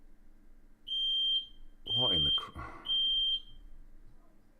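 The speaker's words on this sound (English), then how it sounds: "I've got an alarm going off. Sounds like the fire alarm." A fire alarm sounds in three loud, piercing tones with short gaps between them, and a startled voice speaks briefly during the second one.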